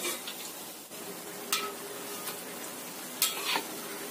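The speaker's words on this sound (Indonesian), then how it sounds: "Goreng sampai benar-benar kuning, kuning kemasan atau kering." Rempeyek and tapioca crackers frying in hot oil, a steady soft sizzle with a few brief louder crackles and scrapes of a utensil, fairly quiet and without talk.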